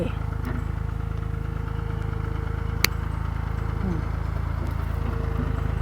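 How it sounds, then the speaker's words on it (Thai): A grass trimmer running on a blueberry farm: a steady, low buzzing engine drone at moderate distance, continuous throughout, with one sharp click cutting in midway. "เราเปิดเครื่องตัดหญ้าแล้วบัดนี้"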